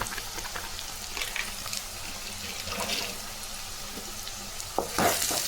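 Curry leaves and turmeric powder added to half-cooked onions in a pan for a dried-fish thokku, giving a steady soft sizzle with scattered stirring clatters and a sharper burst of spluttering near the end.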